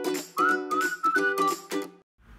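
Someone whistles a TV show's theme tune, a clear melodic phrase of several sustained and broken notes that ends abruptly, with a faint noise just after.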